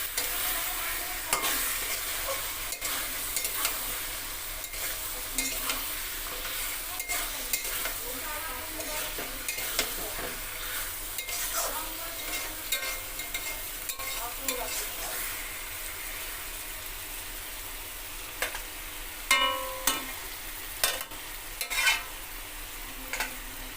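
Mutton pieces being stirred and fried in oil for kosha, a steady crackling sizzle throughout with frequent scrapes and clinks of a spoon against the pan, close and moderately loud with no talking.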